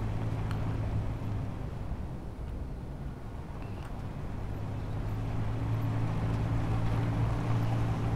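Steady low engine drone of a player-built wheeled vehicle driving in the Space Engineers video game, continuous and fairly loud throughout with a constant hum and no talking.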